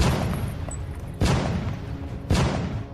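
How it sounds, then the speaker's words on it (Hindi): Cannon fire in a battle: two heavy booming blasts about a second apart, loud and close, over a continuous rumbling din. "तोपों के धड़ाके निरंतर हो रहे थे।"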